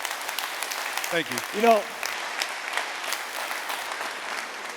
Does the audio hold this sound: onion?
no